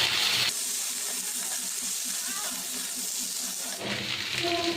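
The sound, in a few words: water poured into frying potatoes and capsicum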